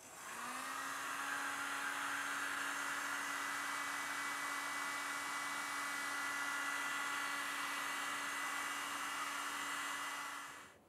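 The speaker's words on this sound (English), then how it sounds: "Then I grab my paint stripper and give it a good blast." Steady whooshing electric whine of a heat gun paint stripper blowing onto a clay batt for stoneware pottery, switching on and running continuously for about ten seconds before cutting off.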